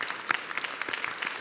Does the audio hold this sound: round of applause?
yes